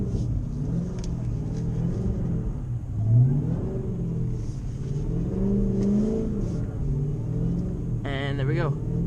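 A Dodge Charger Hellcat engine rumbles and revs steadily while the car spins around on snow, with rising and falling surges and a brief tire whine near the end, under talk throughout.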